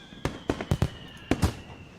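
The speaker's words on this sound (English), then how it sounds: "Fireworks." Fireworks explode high above a school in the night sky in Katawa Shoujo, a rapid run of about six sharp booming bursts, some paired close together, loud and punchy against a faint steady tone.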